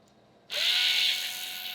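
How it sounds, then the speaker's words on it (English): A handheld power drill bores into an electric guitar body, kicking in abruptly after a quiet moment and holding a steady, close, high whine that eases slightly as it bites. "Now we have our holes marked out, and so we're gonna drill."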